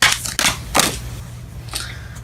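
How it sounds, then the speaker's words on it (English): Tarot cards being shuffled by hand: several quick, papery riffling bursts close up, separated by short pauses, with no voices. "I'm gonna shuffle one more."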